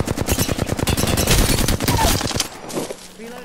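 Rapid automatic gunfire in Apex Legends during a close firefight, a loud burst of fast repeated shots that fades out near the end, with no speech.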